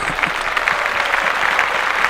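Podcast audience clapping and applauding steadily, a dense continuous wash of many hands at moderate loudness with no talking over it.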